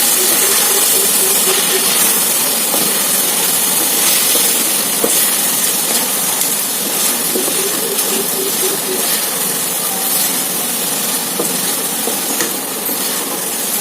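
Ridge gourd with chilli powder and masala frying in a pan, a steady loud hiss and sizzle running throughout with faint stirring scrapes.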